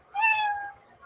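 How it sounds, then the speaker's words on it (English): A cat gives one clear, drawn-out meow, close and fairly loud, with nothing else around it. "you'll hear the sound of a kitty"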